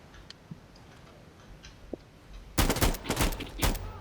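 Rapid bursts of gunfire in the Insurgency: Sandstorm video game, rounds shooting through a wall, erupting loud and close after a quiet stretch of faint clicks, in several dense volleys.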